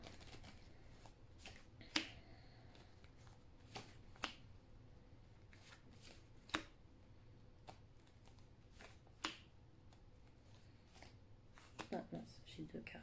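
Tarot cards being shuffled by hand, faint riffling with scattered crisp snaps and slaps of cards, quiet and close, with someone speaking intermittently.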